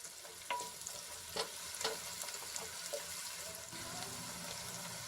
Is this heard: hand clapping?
no